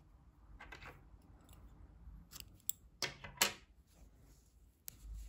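Scissors cut crochet yarn while a frilled baby romper is being made, giving several close, crisp snips and clicks in a quiet room, with no talking.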